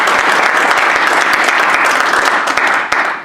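Loud, steady applause from a Hallmark Speakers meeting audience, dense clapping filling the room from start to finish with a few sharper claps standing out near the end, and no talking over it.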